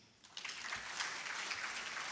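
Sustained applause from the audience at an HIV service delivery integration summit, a dense, even wash of clapping that starts after a brief quiet moment and continues steadily.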